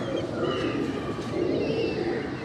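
Pigeons on a rooftop in Karachi coo softly in low, throaty murmurs, a continuous gentle cooing from close by with faint background noise and no talk.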